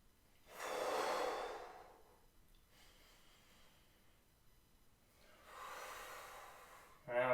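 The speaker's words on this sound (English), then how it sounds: "I'm going to reach overhead and trying to breathe into the other side. 5 to 8 good breaths here." Slow, deep breaths during a side plank exercise, a long loud exhale, a fainter breath, then another drawn-out breath, close and quiet with no talking.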